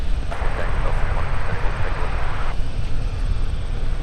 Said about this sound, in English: Delta 1701 coming in from Sacramento with the 737-900ER.